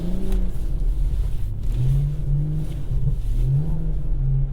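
BMW M140i with a limited-slip differential accelerating on a skid pan with traction control off, the engine rising and falling in pitch through repeated throttle surges, loud and close, with no talking.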